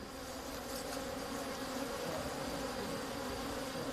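Bees at a beehive apiary guarded by an electric fence make a dense, continuous buzzing drone, steady and fairly close throughout, with no voices.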